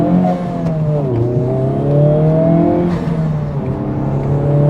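A Honda Civic Type-R FL5 accelerating hard through turns, its engine note rising and shifting steadily over several seconds, loud and close with no talk.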